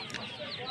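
Native chickens give brief, soft clucks amid the murmur of a busy pigeon market, with a voice faintly in the background.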